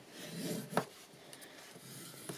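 Paper card being folded and creased by hand for a mini easel card layout, a soft rubbing and scraping texture with one sharper crease snap near the start and another at the end, quiet and close with no talking.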